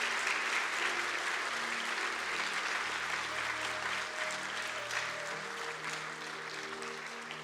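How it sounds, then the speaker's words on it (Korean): Sustained applause from a church congregation at a Sunday evening worship service, welcoming new confirmed members; steady, dense clapping that fills the room throughout and fades slightly toward the end. "우리 이분들을 위해서 박수로 한번 축복하겠습니다."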